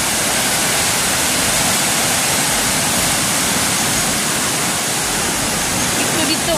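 Strong floodwaters of the Piñan river rush in a loud, steady broadband roar that fills the whole clip without letup.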